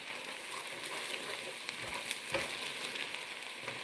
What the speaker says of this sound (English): I'm just trying to burn my onions right now.